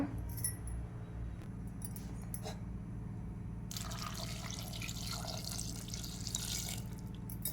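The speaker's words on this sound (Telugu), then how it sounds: "వాటర్ వేసుకున్నానండి వాటర్ వేసుకున్నాను" Water trickles and drips close by, then a louder gush of pouring water splashes into a cooking pot holding oil for the last few seconds.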